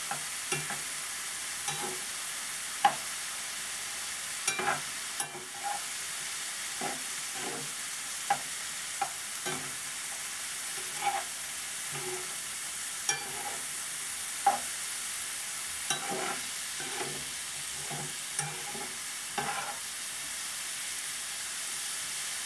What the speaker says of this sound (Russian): сейчас все будет перемешивать